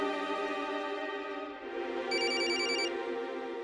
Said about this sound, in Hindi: मम्मी का फोन